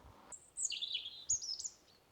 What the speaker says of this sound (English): Lovely bird song.